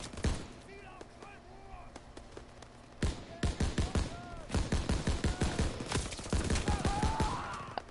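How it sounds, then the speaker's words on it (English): Gunfire in Call of Duty, with many sharp shots in quick bursts, some rapid like automatic fire, close and loud, with a few speech-like sounds mixed in. "That's a sniper."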